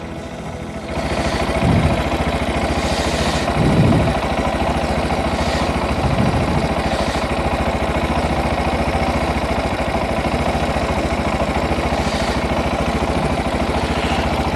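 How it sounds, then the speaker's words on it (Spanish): A Zongshen motorcycle engine idles steadily while warming up during a coolant change, a constant close mechanical hum with a few faint knocks and no talking. "mientras que se sigue calentando la moto"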